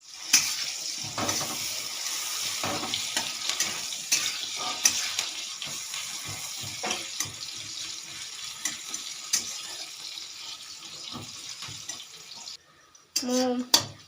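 Chopped onions fry in oil for pasta in a home kitchen, giving a steady, moderate hiss that runs the whole length with little change in level.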